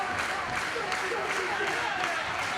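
Crowd at a wrestling cage match clapping in steady, dense applause throughout, with a commentator talking over it.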